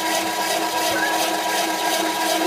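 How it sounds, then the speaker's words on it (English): An ice cream machine churning chocolate chip ice cream halfway through, a steady whirring motor drone with a faint mechanical rattle, continuous and close by, with no talking. "now we're halfway through churning our ice cream, so if Joe would like to just come over here and have a look at the machine"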